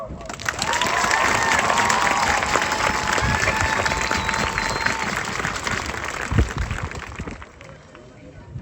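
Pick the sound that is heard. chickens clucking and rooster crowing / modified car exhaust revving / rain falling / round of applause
round of applause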